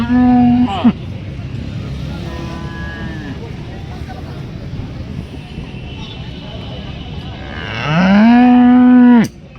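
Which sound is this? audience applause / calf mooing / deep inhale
calf mooing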